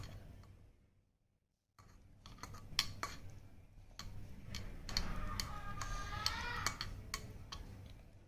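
Quick tiny clicks and taps of a small utensil stirring sambar rice in a miniature cooking pot, a rapid irregular rhythm close up over a faint background hum, with a brief quiet gap early on.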